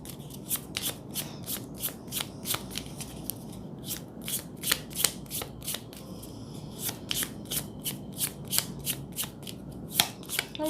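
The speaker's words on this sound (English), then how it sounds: "I'm going to be here shuffling." A deck of tarot cards being shuffled up close, a steady run of crisp riffling and flicking bursts repeating in quick rhythm for about ten seconds, with no talking.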